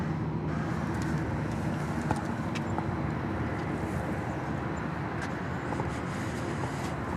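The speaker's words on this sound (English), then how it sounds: "We have, I believe, a Southwest plane coming in here." A Southwest Airlines plane approaches to land at Dallas Love Field, heard as a steady broadband jet roar at moderate distance that holds constant throughout.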